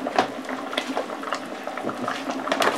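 A pot of Ukrainian borscht bubbles on the stove, soft irregular bursts of boiling liquid popping close by, fairly quiet and with no talk.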